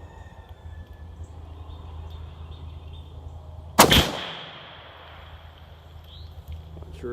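A lever action rifle fires a single loud, sharp shot outdoors at a 50-yard range, followed by a brief rolling echo that fades into steady background hum.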